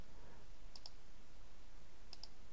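Computer mouse clicking while labelling an Excel chart: two quick double-clicks, soft and close, separated by about a second and a half of faint room hiss.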